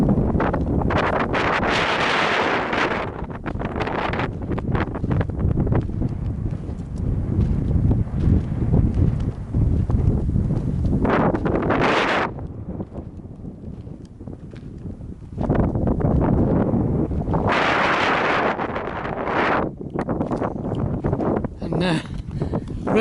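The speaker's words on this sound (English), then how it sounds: "It's going to get a bit windy" Strong wind at Red Roof in outback Australia buffets the microphone in heavy, roaring gusts that rise and ease over about twenty seconds, loud and close, with occasional voices underneath.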